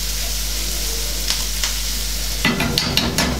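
Fish frying in a pan for a marinated fish dish, a steady soft sizzle with light clinks and stirring, louder scraping at the end, no voices.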